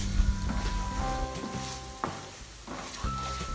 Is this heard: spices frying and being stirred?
yes